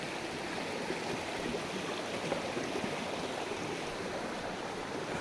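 Water rushes in the stream at Khoiyachora waterfall near Mirsharai, a steady, even broadband roar that holds unchanged throughout at moderate level, with no voices.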